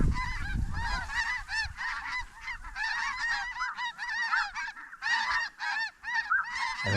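A huge flock of snow geese in Saskatchewan honks continuously. The dense, overlapping calls stay loud and fairly close, and a low rumble of wind is heard at the start.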